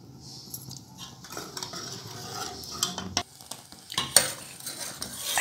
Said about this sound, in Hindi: इसमें ये दूध ऐड कर देना और चम्मच चलाते जाना